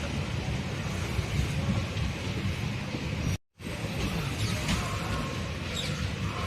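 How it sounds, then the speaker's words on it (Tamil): A train pulls in at platform 3 of Thanjavur Junction, a station with five platforms, giving a steady loud rumble with wind buffeting throughout and one brief dropout midway. "ஸோ நம்மளது 3வது பிளாட்ஃபாரத்தில் தான் நம்ம ட்ரெயின் வந்துட்டு இருக்குது"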